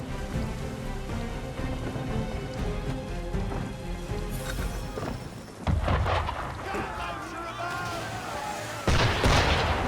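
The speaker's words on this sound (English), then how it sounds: "Why is he shooting at us?" Ship's cannon and gunfire at sea in Assassin's Creed 3 Remastered, heavy booming blasts and rumbling volleys over a dense game soundscape, growing louder near the end, with some voices mixed in.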